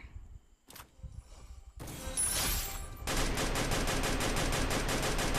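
Rapid automatic gunfire in the battle royale game Free Fire, starting after a few isolated shots and then a loud, steady burst of rattling shots that continues to the end.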